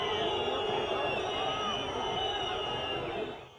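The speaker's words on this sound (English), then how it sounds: "they started booing" A crowd of Erdogan supporters on a bridge booing, a sustained loud roar of many voices that holds steady, then drops away sharply at the end.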